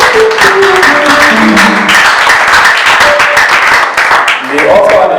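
A church audience claps in a dense patter for several seconds while a voice speaks loudly over the applause.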